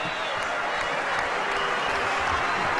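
A cricket crowd at a one-day international in Colombo, Sri Lanka, cheers and applauds in a continuous, fairly distant roar of clapping.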